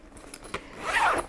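A split zipper on a subscription box bag is pulled open close up, a few soft clicks and tugs followed by one longer, rising zip rasp near the end.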